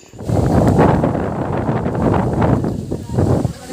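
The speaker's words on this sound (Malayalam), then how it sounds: "നല്ല കാറ്റാണ്. വെയിലുണ്ടെങ്കിലും അടിപൊളി കാറ്റ്." Strong wind sweeps through the trees at the Thanima farm house in Nalleppilly, Palakkad, buffeting the microphone in a loud, continuous rumble with gusts rising and falling; no one speaks.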